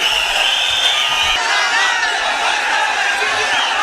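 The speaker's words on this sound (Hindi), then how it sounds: "बैरिस्टर असदुद्दीन ओवैसी साहब का तालियों से इस्तकबाल कीजिए।" A packed political rally crowd in Murshidabad, West Bengal roars and cheers to welcome Asaduddin Owaisi, a loud continuous mass of shouting and whoops with clapping buried underneath.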